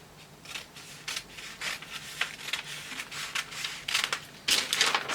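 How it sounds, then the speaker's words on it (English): Scissors cutting through African print fabric for a short dress, a continuous run of crisp, close snipping and rustling strokes at a fairly quick, uneven rhythm, growing louder near the end, with no talking. "So I will cut this side out. This will be for the African print."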